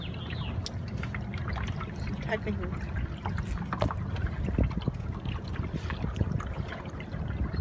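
Kayak paddling on a river on a solo trip, with steady water splashing and trickling around the boat close by, and a brief spoken word over it.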